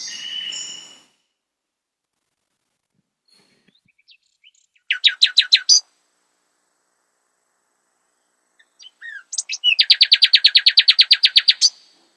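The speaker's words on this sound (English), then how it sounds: "Then finally, the bird gets the full song like this." A young bird's full, mature song: a short call, then a quick buzzy trill, a pause, and a longer rapid series of evenly repeated high notes, clear and close against near silence.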